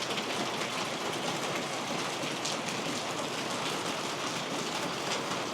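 Rain falling outside a house: a steady, even hiss of dense rainfall with scattered drops on surfaces, constant and unbroken throughout.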